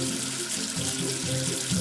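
Water runs steadily from a tap to rinse off soap, a continuous close splashing flow with no talking.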